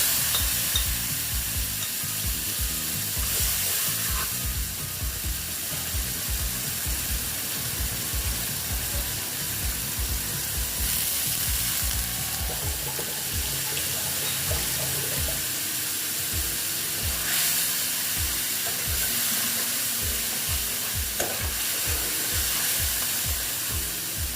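Spice paste thinned with water sizzles as it is stirred together with ridge gourd in a pan, a steady close frying hiss with scraping and splashing through the whole stretch, no voices.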